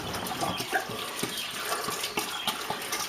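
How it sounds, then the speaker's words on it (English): Rainwater pours into a chicken stock pot already holding salt, a steady splashing, gushing stream with small irregular splashes, close by and without talk. "I'm putting in rainwater,"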